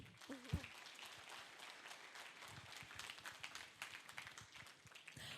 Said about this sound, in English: please give a big round of applause for the co-founder and the CEO of the Millennium Project USA, Mr. Jerome Glenn.